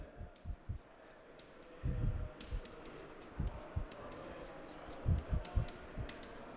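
A pen scratches out a maths function on paper in short, faint strokes and bursts, with quiet pauses between them.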